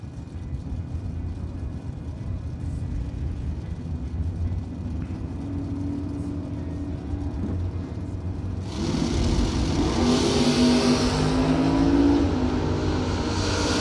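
Chevelle and Malibu drag cars launch side by side down the strip, a distant engine roar swelling abruptly partway through and holding loud to the end over steady background crowd rumble.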